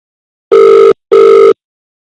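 A phone line rings during a prank call, giving two identical loud, steady ringback tones of under half a second each, separated by a brief silence, with no voices.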